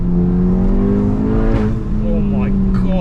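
Tuned Stage 3 VW GTI accelerating hard with old engine mounts, a loud close engine roar rising steadily in pitch through the gears over about three seconds, with a brief dip mid-run and a voice talking over it.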